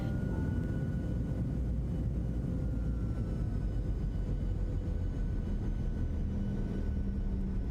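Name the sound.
PMDG Boeing 737-700 engines throttling up, flight simulator game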